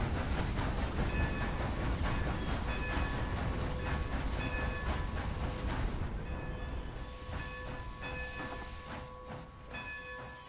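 A steam locomotive in Red Dead Redemption 2 rolls along steadily, a dense rumble with hiss and faint rhythmic clatter that eases off and quiets toward the end as the train slows.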